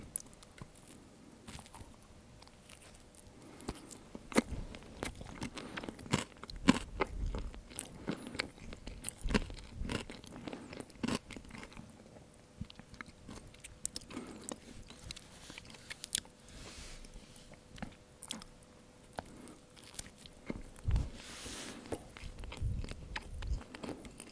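Close, quiet bites and steady chewing on liver pâté sandwiches, with repeated soft crunches and wet mouth sounds continuing through the whole stretch, and no talking.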